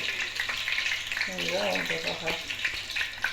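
Halka tatlısı dough is piped into hot oil and fries with a bright, crackling, bubbling sizzle that runs the whole time. A person talks over it in the middle.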